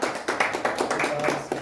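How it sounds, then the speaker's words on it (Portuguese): A church congregation applauds during a sermon with a brief burst of rhythmic, fairly close hand clapping. No voices are heard. "Você pode aplaudir Jesus por isso."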